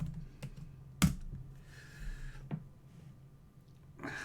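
Someone types a chat message on a computer keyboard: a few sparse, separated key clicks and taps, close but fairly quiet, with a soft low background hum.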